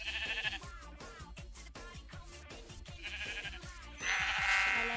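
Sheep bleating in the Minecraft video game, repeated short bleats over busy background game music and sounds, fairly loud throughout.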